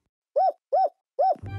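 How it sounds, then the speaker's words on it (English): A cartoon horned hoot creature gives three evenly spaced, clear hoots, each rising and falling in pitch. A low buzzing tone comes in right after the last hoot. "These hoots make different sounds."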